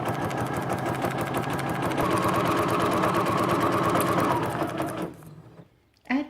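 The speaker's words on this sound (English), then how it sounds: "now you can pivot by lifting the foot and start sewing towards dot E." A sewing machine stitches through paper in a fast, even mechanical chatter up close, running continuously for several seconds before slowing and stopping, then giving a brief final burst.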